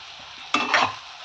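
Eggplant and masala sizzle in an oiled kadhai as they are sautéed again, a short burst of frying and stirring rising briefly over a quiet background hiss, with no voices.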